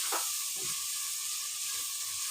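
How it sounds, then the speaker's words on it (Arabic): Onion with cinnamon, ginger, seven-spice, salt and black pepper fries in a pan, giving a quiet, steady sizzle with a few soft scrapes from stirring and no talking. "هفضل اقلب فيها كده عشان ما ايه البصله تدبل بس"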